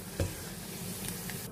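Food frying in oil, a faint continuous sizzling hiss with a single soft knock near the start.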